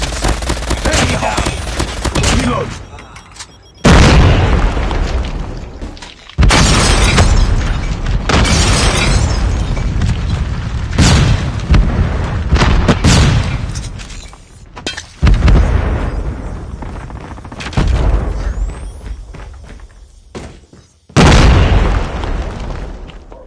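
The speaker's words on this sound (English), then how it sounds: "Semtex out! It's too close." Several loud, sharp explosions, including a Semtex grenade blast, erupt amid rapid gunfire in a Call of Duty Mobile ranked match, with booms recurring every few seconds across the whole stretch.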